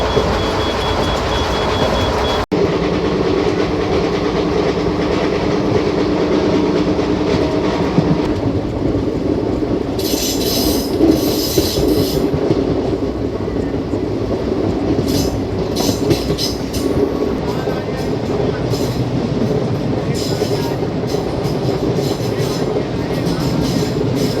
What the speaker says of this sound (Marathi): जसं सालपा रेल्वे स्टेशन स्किप झालं त्यानंतर गाडीचा स्पीड आता 110च्या वरती गेलं